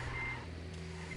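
An electronic alarm in the video game Ghost Recon Wildlands beeps with steady, repeating tones, quiet and continuous throughout the brief moment.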